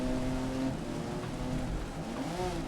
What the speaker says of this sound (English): I feel like I've been thrown in the deep end with the rain though